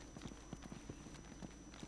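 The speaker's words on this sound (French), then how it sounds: "Ça fait petit bruit de pas assez oppressant." Footsteps from the video game Resident Evil: Operation Raccoon City tap out a steady, quick walking rhythm of soft, thudding steps under a faint background hum, with no speech.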